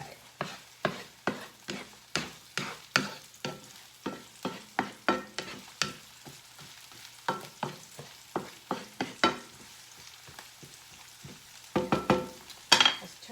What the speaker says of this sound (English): Okay, that's nice and sauteed.